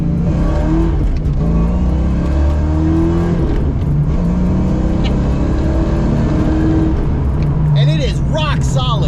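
An essentially stock car accelerates while driving, its engine note climbing in pitch through repeated pulls with a steady road drone underneath, loud and close from inside the cabin.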